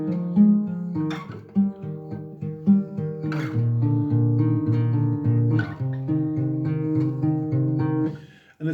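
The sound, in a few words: fingerstyle guitar playing pre-chorus slowly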